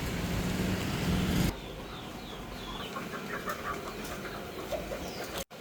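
Chickens at a stall in a Vietnamese local market during a power outage, a few faint clucks and bird calls carried over a steady background hum, with a louder rushing noise in the opening seconds.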